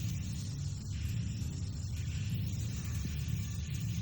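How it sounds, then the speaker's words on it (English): A lightning sound effect from the shooter game Cyvern: The Dragon Weapons plays as a continuous, harsh, grating rumble, loud and steady throughout with no gaps. "That lightning sound effect, geesh."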